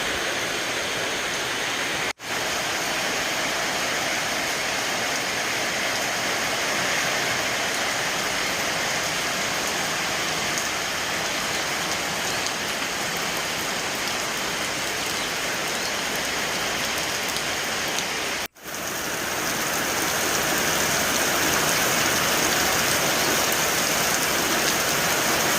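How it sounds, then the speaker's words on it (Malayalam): Heavy rain pours down steadily for the whole stretch, a thick unbroken roar of drops close by, loud and even, cut off abruptly twice for an instant, with no one talking. "ഇതിപ്പം നല്ല മഴയാണ് കേട്ടോ."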